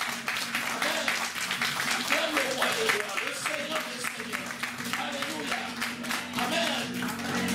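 A church congregation claps and cheers in praise of the Lord, with dense, steady rhythmic applause and voices throughout, while music plays under the crowd noise.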